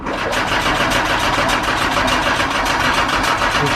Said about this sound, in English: gonna try to start his van